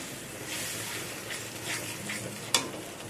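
Jackfruit curry masala with chickpeas and potatoes stir-fried in a pan after a little water is added, a soft steady hiss with gentle stirring and one sharp utensil knock near the end, fairly quiet and close.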